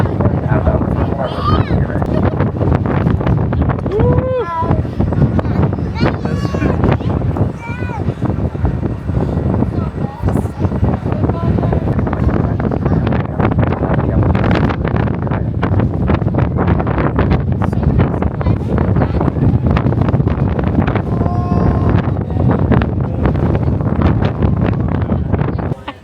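Loud, constant wind buffeting the microphone on the Sandia Peak Tramway, roaring and rumbling throughout, with voices talking intermittently underneath.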